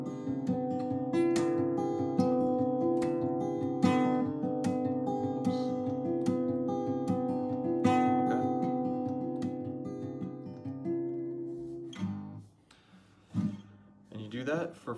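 Fingerpicked acoustic guitar chords for a song, a steady picking pattern ringing alone and close, with a chord change and some scattered notes toward the end.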